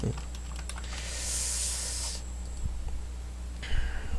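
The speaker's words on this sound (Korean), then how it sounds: "이거 지금 제가 숫자만 누르는 거예요" Numbers typed on a computer keyboard: a quick run of light keystroke clicks, then a steady hiss in the middle, with a few more clicks and a short burst near the end.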